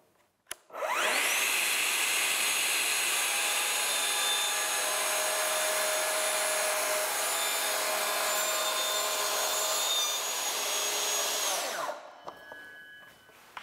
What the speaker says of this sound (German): Denn wenn wir so eine Schiene neu haben, müssen wir die Gummilippe erstmal einmal einsägen.